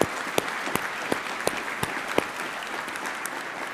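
Audience applause for award recipients at a Grand Lodge of Pennsylvania installation ceremony, dense, even clapping from a sizable room, heard alone and sustained throughout.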